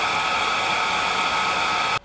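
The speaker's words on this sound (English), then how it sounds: "make sure you're not too hot with the hairdryer" A hairdryer blowing hot air onto a plastic canopy, a loud, steady broadband whoosh that runs unbroken close to the mic, then cuts off abruptly just before the end.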